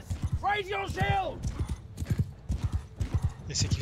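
Horses gallop in Mount & Blade II: Bannerlord, a rapid, close clip-clop of hooves with neighing and whinnying, carried under a man's ongoing speech.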